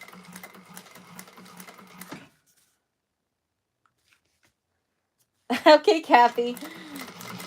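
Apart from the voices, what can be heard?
sewing machine basting down the sides of a bag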